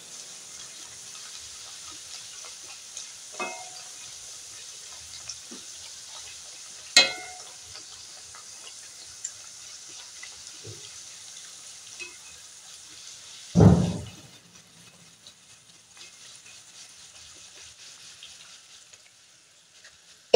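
Pea kachori fry in red mustard-sesame ghani oil with a constant soft hissing sizzle, scattered small pops, and one louder splashing burst partway through as more dough goes in.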